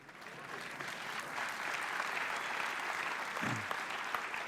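Steady applause from an audience, a dense wash of clapping hands that holds throughout at moderate distance with no talking.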